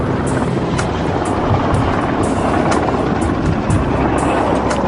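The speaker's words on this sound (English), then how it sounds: "The helicopter is an unmarked Black Hawk-type chopper, often used by special forces." An unmarked Black Hawk-type military helicopter circles a mountain peak, its rotor and engine making a steady, loud, continuous roar with faint rhythmic pulses throughout and no voices.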